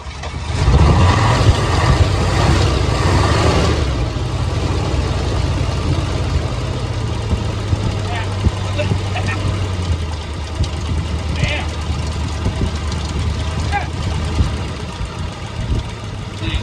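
A forgotten Pontiac Firebird's engine turns over and runs for the first time in nearly 30 years, a loud, close, rough rumble that settles into an uneven idle.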